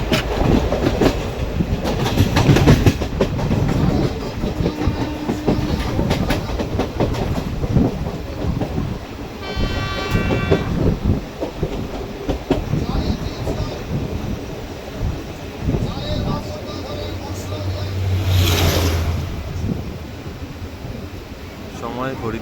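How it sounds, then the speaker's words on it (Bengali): The Aranyak Express rolls into Shalboni station in West Bengal with a loud, continuous rumble and clattering wheels on rails. A brief squeal and a hornlike tone sound later, and voices carry faintly over the train noise. "ট্রেন ঢুকছে শালবনী"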